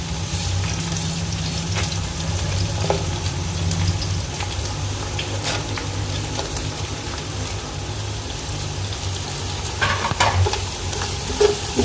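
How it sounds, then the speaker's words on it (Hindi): Onions and bay leaves sizzle in hot oil in a pan, a continuous crackling fry with occasional scraping stirs, close and steady throughout with no talking. "और इसी में हम प्याज डाल देंगे अपनी।"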